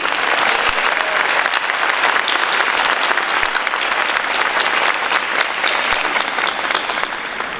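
Sustained applause from an audience at a high school graduation ceremony, honoring the band: dense, even clapping that stays loud and steady for the whole stretch with no talking over it.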